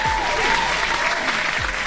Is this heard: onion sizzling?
no